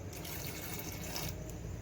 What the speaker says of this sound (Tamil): கொஞ்சம் தேவையான தண்ணி ஊற்றிக்கலாம்.